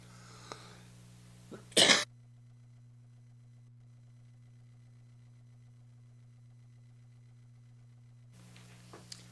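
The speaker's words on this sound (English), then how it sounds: "If I could just shake the cough" A single sharp, loud cough or sneeze-like burst stands out near the start over a steady low electrical hum, followed by long near-silence.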